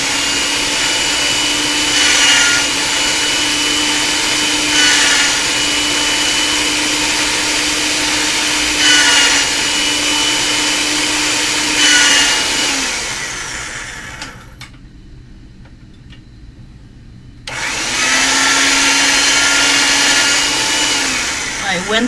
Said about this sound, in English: I'm going to get this again through the pasta machine